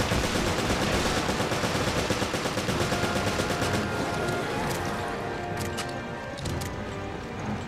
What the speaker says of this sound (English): we need to shoot all these